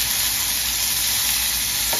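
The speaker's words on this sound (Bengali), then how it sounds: "এবার আমি এখানে একটা টমেটো কুচি নিয়েছি, টমেটো কুচিটা দিয়ে দেবো" Chopped tomato fries with garlic and ginger in a pan for palak paneer, giving a loud, even sizzle that holds without a break.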